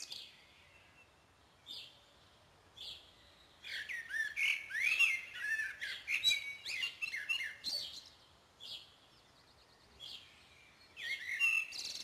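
A blackbird sings in bursts of clear, warbling phrases with short pauses between, fairly close, over a quiet background.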